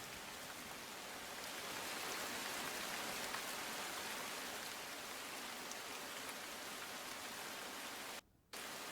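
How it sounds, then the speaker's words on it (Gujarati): Heavy monsoon rain pours down in Navsari, Gujarat, a dense steady hiss of rainfall that continues evenly, cutting out briefly near the end. "વિવિધ વિસ્તારોમાં વરસાદી ઝાપટાથી વાતાવરણમાં ઠંડક પ્રસરી જવા પામી છે।"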